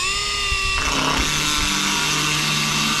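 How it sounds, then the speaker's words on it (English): A die grinder whines steadily at high speed, loud and close, shaping the hood emblem on a 1971 GMC Jimmy, its pitch dropping as it bites into the metal and then holding a continuous grinding drone. "I used the die grinder just to make sure that everything was fitting nice and snug"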